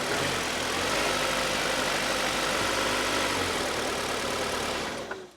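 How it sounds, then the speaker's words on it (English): Mitsubishi Eclipse Cross PHEV plug-in hybrid engine idling, a steady close mid- and low-pitched hum with a faint regular knock, holding even for about five seconds before fading at the end. "So this is how the engine sounds like."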